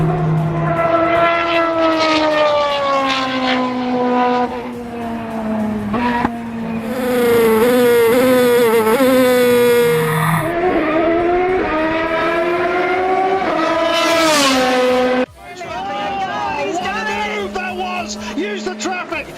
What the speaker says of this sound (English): Seriously fast car.